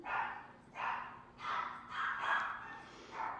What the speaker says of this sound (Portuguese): Deixa elas latirem.